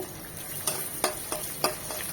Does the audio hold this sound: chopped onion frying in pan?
yes